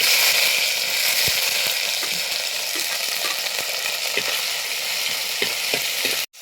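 Small onions frying in hot coconut oil with mustard seeds and fenugreek give off a loud, continuous sizzle with faint popping and occasional stirring scrapes, close up.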